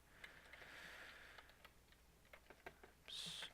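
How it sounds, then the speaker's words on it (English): Quick keystrokes on a computer keyboard as a stock ticker is typed in, a short irregular burst of clicks at close range, ending in a brighter, louder tone. "Let's type it in here."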